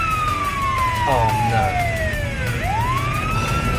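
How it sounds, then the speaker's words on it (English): A police car siren in city traffic sweeps down in a long falling wail, then swings back up, loud and close over a low rumble of road noise. "no. Police car."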